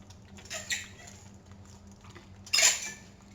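Homestyle chicken curry with a sprig of curry leaves being stirred in a pan, giving two brief, quiet scraping bursts of a utensil against metal with near silence between them.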